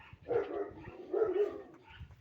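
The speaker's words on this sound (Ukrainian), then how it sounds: "Хто вони гавкають?" Two bursts of dog barking, moderately loud and fairly close, separated by a short pause, with no talking.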